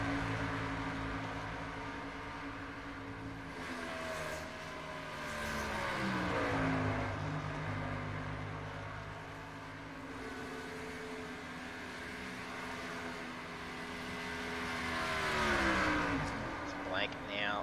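A NASCAR Cup race car engine in the iRacing game at Charlotte Motor Speedway drones at moderate volume, its pitch sliding down and rising again as the car slows for the pits, under continuous commentary.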